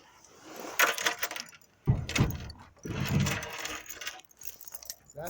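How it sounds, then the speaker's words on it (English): Keys jangle in several loose bursts as they are pulled from a car beside a 1965 Barracuda, with scattered metallic clinks, faint mechanical noise and a little background talk. "I just want to get my keys out of the car."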